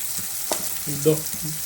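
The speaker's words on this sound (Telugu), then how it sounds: "ఇప్పుడైతే మనకి ఇవన్నీ బాగా వేగినాయి అనమాట. Deep fry." Green chillies deep frying in a pan with a soft, continuous bubbling sizzle and a couple of brief clinks over a short stretch, with no voices.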